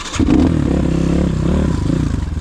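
Rottor Bronx 300 motorcycle climbing a flight of steps, its engine droning steadily and close by with a low, even tone and some clatter.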